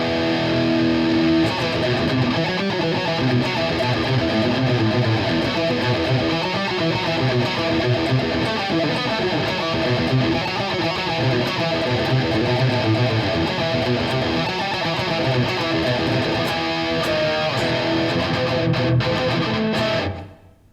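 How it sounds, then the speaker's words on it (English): A Randall Thrasher guitar amp head with its mid-scoop switched on roars with heavy distorted guitar riffing, loud and dense for about twenty seconds before cutting off abruptly, with no talking. "So here it is with the mid-scoop engaged."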